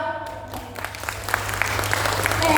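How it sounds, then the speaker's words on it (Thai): A small audience breaks into applause that slowly swells, moderately loud, with a low steady hum underneath. "ขอเสียงปรบมือหน่อยครับ"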